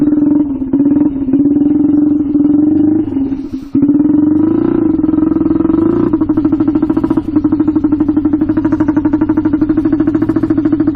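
A turbocharged Honda 400ex ATV engine idles loud and close with a steady throbbing hum that dips briefly once before settling into an even, slightly rattly idle, with no talking.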